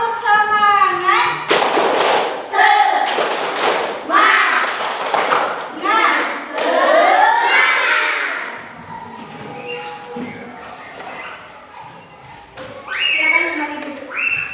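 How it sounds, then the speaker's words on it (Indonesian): Elementary classroom of fourth-grade children clapping a rhythmic spirit clap together, loud bursts of patterned claps mixed with young voices chanting along throughout. "Untuk lebih semangat lagi kita tepuk semangat dulu ya."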